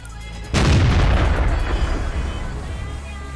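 A tank cannon in World of Tanks fires once with a sudden heavy boom that rolls on as a long, loud rumbling decay, close and dominant, with no talk over it.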